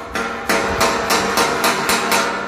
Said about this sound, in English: I'm just going to cold roll this again, just very simply with a hammer